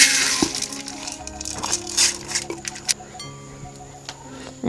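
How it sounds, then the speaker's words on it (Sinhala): Dry mung beans are tipped into a cooking pot for porridge, clattering and rattling in quick bursts that thin to a few scattered clicks under a faint background hum. "දැන් මුං ඇට ටික මේ හට්ටියට දානවා."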